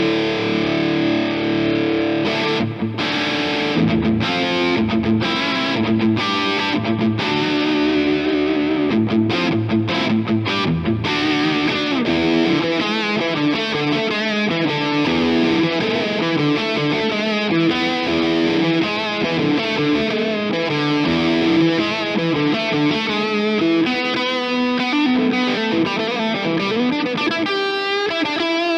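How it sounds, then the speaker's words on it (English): Gibson Les Paul Standard 2019 electric guitar played through an OCD overdrive on the bridge humbucker, a loud, continuous distorted riff with chopped strummed chords at first, then sustained driven lines filling the whole stretch. "let's get some OCD overdrive on that, and let's go to the bridge pickup in humbucker mode"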